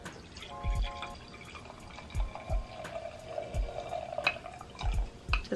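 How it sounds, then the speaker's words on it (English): Wine from a freshly bought bottle glugs into a glass, with a steady liquid pour in the middle and a few soft knocks and clinks around it. The sound is close and there is no speech over it. "Gonna pour another glass of wine."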